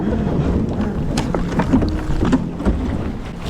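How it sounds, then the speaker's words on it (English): A kayak bumps and scrapes through small chunks of glacier ice in Svalbard, giving scattered knocks and clunks over wind and lapping water, close to the microphone. "Just hitting ice, hitting little mini icebergs."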